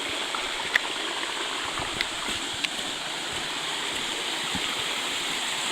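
A waterfall, La Chute on Mont Hereford in Québec, running at low flow, gives a steady broadband rush of falling water that holds even and unbroken throughout, with a few faint ticks on top and no voices.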